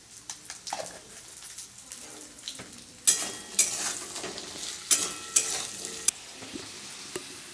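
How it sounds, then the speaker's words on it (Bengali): Potato pieces sprinkled with a little salt fry in oil in a home kitchen, a soft steady sizzle broken by several sharp spatula scrapes and knocks against the pan. "ওইদিকে আলু ভাজা হতে থাক"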